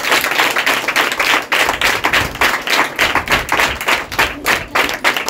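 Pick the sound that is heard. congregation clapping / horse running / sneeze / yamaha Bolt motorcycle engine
congregation clapping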